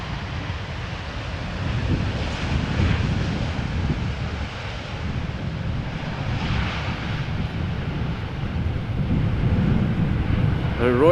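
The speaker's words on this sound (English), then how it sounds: "Dreamliner from TUI, Boeing 7878, arriving from Willemstad," A TUI Boeing 787-8 Dreamliner arrives at Amsterdam Schiphol in crosswind, a steady distant jet roar blended with gusty wind noise on the microphone throughout.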